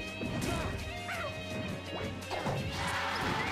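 Marth's smash attacks land in Super Smash Bros. Brawl as sharp, crashing hits spaced across a few seconds, mixed with busy game effects and a voice in the background.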